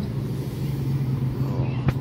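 An intercity bus on the Sukabumi–Kalideres route pulls out of Sukabumi bus terminal, its engine a steady low rumble close by with a brief swell near the end, no talking.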